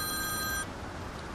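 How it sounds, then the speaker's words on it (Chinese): A telephone rings indoors in a quiet room, giving a steady electronic tone for just over half a second before it cuts off into faint room tone. "电话。"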